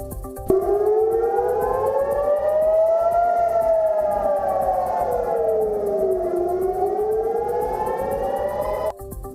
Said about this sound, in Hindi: मिसाइल बम गोलों के बीच लगातार बजने वाले सायरन